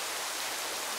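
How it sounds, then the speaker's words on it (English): Rain falls steadily outdoors beside a swimming pool, a dense, even hiss of drops with no breaks through the brief moment. "It has started raining."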